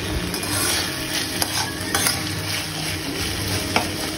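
Food fries in a pan at home during breakfast preparation, a continuous sizzle overlaid with repeated spatula scrapes and stirring knocks, fairly close, without speech.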